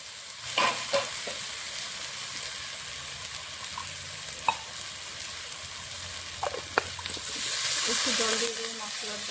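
Spice paste of salt, turmeric, chilli and coriander powder frying in a pan for Bengali egg pulao, with steady sizzling and a spoon scraping and stirring in short bursts, close and moderately loud; a rising hiss near the end.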